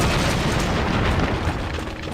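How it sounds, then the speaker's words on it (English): A continuous, loud, rumbling blast fills the whole stretch, broadband and dense like a big explosion with lingering debris noise, from Indiana Jones and the Infernal Machine as an enemy blows himself up; no talking. "Someone blew themselves up"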